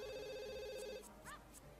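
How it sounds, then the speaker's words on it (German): A telephone rings in The Sims 2, a steady electronic trill sounding on its own, followed by a brief chime and a short game voice sound as it stops. "Da klingelt das Telefon"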